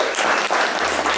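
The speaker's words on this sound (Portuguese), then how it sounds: "Salva de palmas!" A studio audience's applause on a Brazilian business podcast set, a steady wash of many hands clapping close and loud for about a second with no talk over it.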